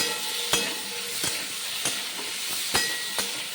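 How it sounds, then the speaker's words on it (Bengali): Prawns sizzle steadily in a hot pan with a constant frying hiss, broken by a few sharp clinks of a utensil as they are stirred. "চিংড়ি মাছগুলো ভাজা হয়ে গেছে"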